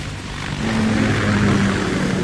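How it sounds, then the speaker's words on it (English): Kamov KA-60 Kasatka helicopter in the video game Metal Gear Solid 2, a steady low rotor and engine drone that swells slightly and holds loud and close throughout, with no voices. "KA-60 Kasatka. Kasatka? Kamarov chopper, right?"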